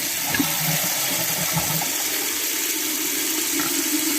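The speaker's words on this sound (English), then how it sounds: "Give it a flush." A toilet flushes just after a running-toilet repair, giving a steady, full rush of water and refill noise that carries on for several seconds, close and constant, with no one talking.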